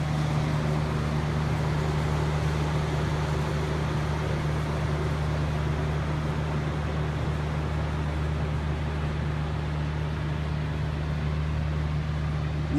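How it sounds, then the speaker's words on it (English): A heater blower in a comic book store runs with a constant, loud, steady whoosh and a low hum, unchanging throughout and with no talk over it. "It's going to be a little loud because we're up by the heater or the blower."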